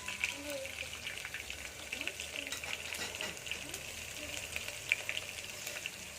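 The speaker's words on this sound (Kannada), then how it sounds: "1 ಚಮಚ ಜೀರಿಗೆ, ಸ್ವಲ್ಪ ಬೆಳ್ಳುಳ್ಳಿ. ಕೆಂಪು ಕಲರ್ ಬರೋಂಗಂಟ ಹುರ್ಕೋಬೇಕು ಅದನ್ನು." Cumin seeds and garlic fry in hot oil for a lentil saaru, giving a steady, close sizzle with light crackles and occasional stirring scrapes throughout.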